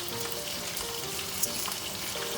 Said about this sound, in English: The last few are almost frying